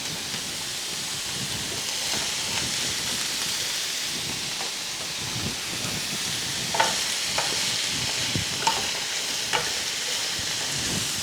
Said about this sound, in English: what I'm cooking here is mushroom and the green pepper